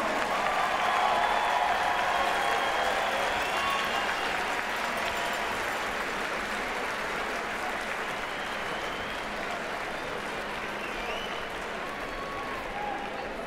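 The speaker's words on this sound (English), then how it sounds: "Let's have a great round of applause for your returning RPI hockey alum." A crowd applauds steadily at a college ice hockey game in an arena, honoring a returning RPI hockey alum, with a broad, sustained wash of clapping and crowd noise that tapers only slightly over its length.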